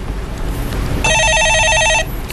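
A telephone rings with a steady electronic trill for about a second in the middle of a Korean stock-market call-in show, loud and alone over faint studio background.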